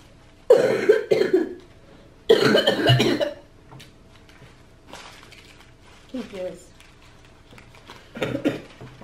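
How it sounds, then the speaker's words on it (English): A sick person coughs in a few loud, close bursts, with quieter shuffling and faint rustling between them indoors. "I'm kind of sick, so if you hear me coughing,"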